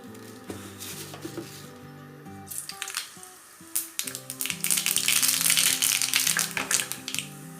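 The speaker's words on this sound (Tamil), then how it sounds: "கடுகு உளுத்தம் பருப்பு சேர்த்துக்கலாம்" Mustard seeds and urad dal crackle and pop in hot oil, a scatter of sharp little spits that builds into a dense, steady sizzle, with a few clinks of a pan or utensil early on.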